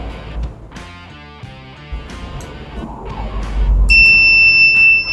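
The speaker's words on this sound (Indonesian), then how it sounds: "maka secara otomatis alarm akan berbunyi" After some clicks and handling noises, a motion-sensor alarm on a decorative lamp starts sounding with a piercing, steady high-pitched tone that continues to the end.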